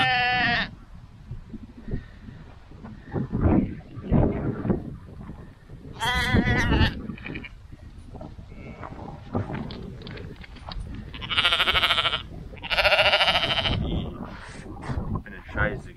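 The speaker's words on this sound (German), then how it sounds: "diese Schafe hier vorne rumchillen" Sheep bleating outdoors, several loud, wavering calls near and far in separate bursts, with people talking in between.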